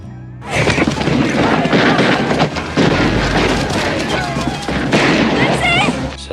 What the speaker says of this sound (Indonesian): tembakan para penyerang.